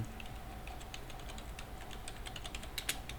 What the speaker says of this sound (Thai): พิมพ์ไปนะครับ